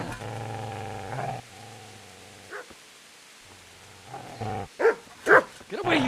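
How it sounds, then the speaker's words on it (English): Dog barking and growling at close range in the medieval game Kingdom Come: Deliverance, with sharp loud bursts near the end following lower rumbling sounds, alone without talk. "Get away, you mutt!"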